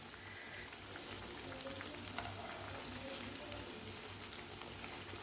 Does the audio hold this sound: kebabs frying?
yes